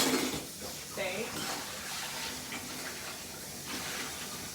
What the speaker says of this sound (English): now I'm just rinsing my steak.